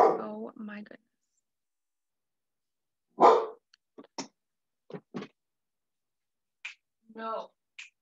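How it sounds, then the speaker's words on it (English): A dog barks at a mail carrier in a series of sharp, separate woofs spread across several seconds, with a few quieter yips. A voice is heard briefly at the very start before the barking begins. "And here he is barking at the mailman"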